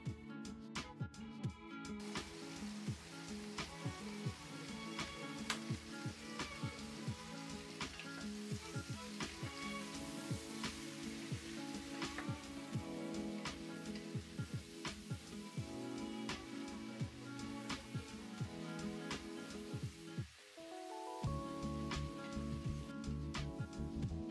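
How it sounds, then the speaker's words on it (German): Chopped vegetables and onions sizzle steadily in a pan for an Italian beef ragout, a dense continuous crackle with frequent small pops and occasional stirring, close and even throughout. "das Gemüse dann so lange anbraten, bis die Zwiebeln so ein bisschen glasig und ganz hell gebräunt sind"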